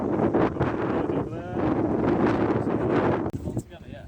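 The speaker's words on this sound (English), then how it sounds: "Very windy." Strong gusty wind buffets the microphone at an outdoor rally service area on the Mull Rally, a steady roaring rumble that drops out briefly near the end, with voices talking underneath.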